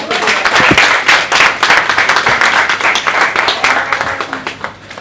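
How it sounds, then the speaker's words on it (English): An audience at a Female Founders Lounge event in Lagos claps for the panel guests, with loud, close applause and distinct individual claps that gradually thin and fade. "Please help me give them a round of applause."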